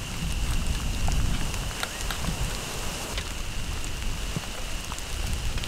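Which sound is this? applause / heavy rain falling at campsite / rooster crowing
heavy rain falling at campsite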